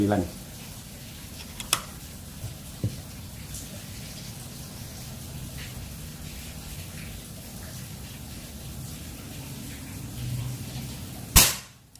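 One sharp report from a Mini Bullpup Army PCP air rifle, 30 cm barrel at 3500 psi, during target shooting, cracking loudly near the end after a long quiet stretch of low rumble and a few small clicks.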